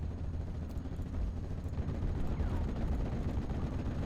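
Sustained rumbling gunfire and battle noise from the video game Steel Division: Normandy, with MG42 machine gun teams of a German SS Panzer division in action, a dense continuous low roar of rapid shots and distant blasts throughout.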